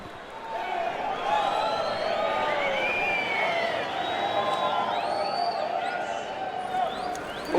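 Boxing arena crowd noise from the Fight Night Champion video game, a steady roar of cheering and applause with scattered whoops running the whole stretch, while commentators talk over it.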